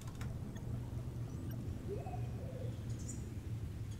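Ambient birdsong in the video game Star Wars: The Old Republic, faint scattered chirps and tweets over a soft low background hum, with no talking.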